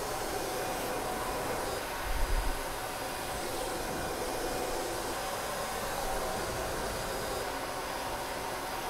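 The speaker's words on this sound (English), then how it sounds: "It becomes very natural as I move through the blow dry." A cordless hair dryer blowing a steady, airy rush of noise close by while hair is blow-dried in a salon, continuous throughout with a brief low bump partway through.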